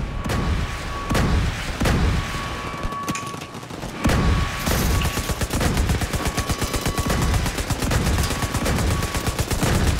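Players in a The Division 2 raid open fire on the final boss's monitor with automatic weapons, loud close rapid bursts that build into a continuous rattling stream of shots, with a few heavier booms early on.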